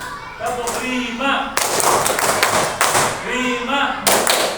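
A class of pupils claps in a counting pattern, with chanting voices giving way to thick volleys of many hands clapping at once, loud and close, then more voices and a final burst.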